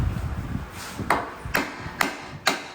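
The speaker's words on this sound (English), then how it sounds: "Get a hammer." Four sharp, evenly spaced hammer taps ring against metal during manual transmission removal on a 2013 Dodge Dart 1.4T, over a low background rumble, each strike crisp and close.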